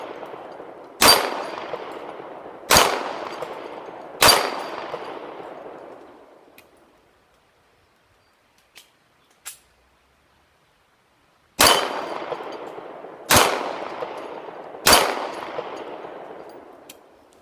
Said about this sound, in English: This is 10 yards on 6-inch steel plates, 4 shots, then a reload with 3 shots.